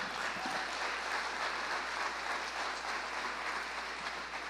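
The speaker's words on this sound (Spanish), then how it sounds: "¿Qué tal si le damos un aplauso al Señor?" A church congregation gives a dense, even round of applause, many hands clapping together in a steady wash that holds at constant loudness throughout.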